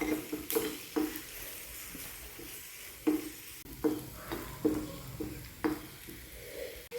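A spoon or spatula stirs clam fry masala in a pan with a regular rhythm of scrapes and knocks over a soft sizzle. It is close and moderately loud, with no talking.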